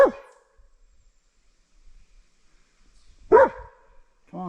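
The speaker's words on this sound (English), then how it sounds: "That's what Riley's barking at." A dog on an Appalachian Trail path barks at a deer, with three sharp, separate barks spaced over a few seconds, close and loud against quiet woodland with faint footsteps between them.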